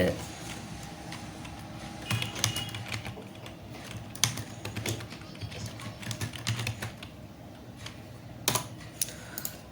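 A madrasa name typed on a computer keyboard, bursts of quick close key clicks in uneven runs under a speaking voice.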